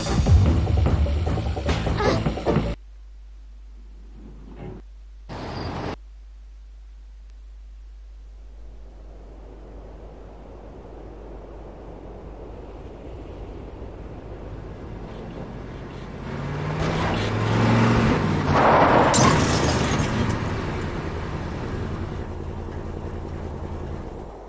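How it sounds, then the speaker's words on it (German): A car driving in the video game Tomb Raider 4, heard as a few loud engine bursts, then a low rumble that swells into a roaring, noisy crash-like surge before fading. "Lara hat das Auto zu Schrott gefahren und wir sind im neuen Level"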